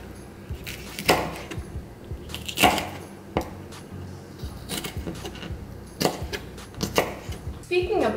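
A kitchen knife slices seeded bell peppers on a cutting board, giving a handful of sharp, close cuts and taps at irregular intervals over a steady low background, with talk in between.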